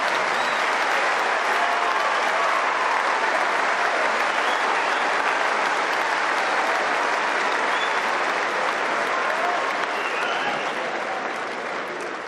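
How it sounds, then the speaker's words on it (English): A huge, steady roar of applause and cheering from the Wimbledon centre court crowd as the players walk out, dense and sustained for the whole stretch, easing only slightly near the end. "So a huge cheer for the players as they walk out onto centre court."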